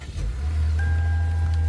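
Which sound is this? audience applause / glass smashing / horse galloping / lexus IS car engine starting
lexus IS car engine starting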